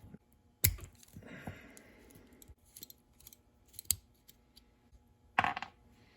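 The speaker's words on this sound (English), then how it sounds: "So let the cage spring back and unscrew the B-knuckle" Unscrewing the B-knuckle of a Suntour ARX bicycle derailleur: a few sharp metallic clicks and ticks, with one scraping twist near the start and another toward the end, close up amid quiet.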